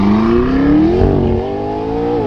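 McLaren MP4-12C twin-turbo V8 in first gear, full manual mode, revving up with a rising engine note, then the pitch dips and climbs again, loud and close from the cabin, no talking.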